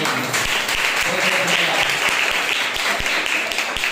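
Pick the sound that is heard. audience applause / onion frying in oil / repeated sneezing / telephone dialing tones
audience applause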